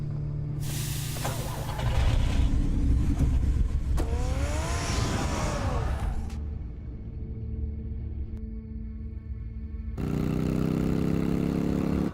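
The Batmobile's engine in the Batman Telltale game roars and revs loudly, whining up in pitch before settling to a lower rumble and pulling away, followed by a quieter stretch and then a renewed steady engine drone.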